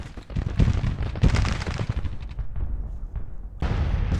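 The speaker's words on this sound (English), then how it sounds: "His artillery is shelling Greg's brigade" Artillery shelling in a Civil War strategy game, a series of booming blasts and cracking shots in close succession, loud and near, with a lull before the firing resumes.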